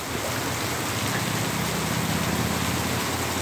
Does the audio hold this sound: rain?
yes